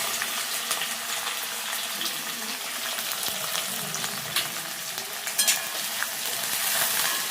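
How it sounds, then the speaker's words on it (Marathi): Carrot, green chilli, capsicum and chopped onion stir-fry in a pan over high flame for fried rice, giving a steady, close, dense sizzle with scattered crackles and the occasional scrape of stirring throughout. "एकदम हाय फ्लेमवर ह्याला परतून घ्यायचं"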